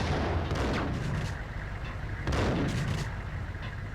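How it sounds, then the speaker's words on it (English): A grenade explosion in the video game Max Payne, two heavy booming blasts with rumbling tails about two seconds apart, loud and close, with no voices. "I assume I lobbed a grenade there."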